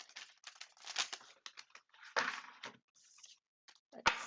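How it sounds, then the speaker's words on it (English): Soft, irregular papery riffling and flicking of tarot cards being shuffled in short bursts, with brief pauses and a sharper snap near the end; close by, no talking. "I'm going to go ahead and we will shuffle again"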